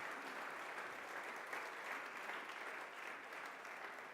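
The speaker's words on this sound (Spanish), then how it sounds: "Le damos un aplauso al Señor esta mañana." A church congregation claps in steady, fairly soft applause that runs evenly for several seconds with no voices over it.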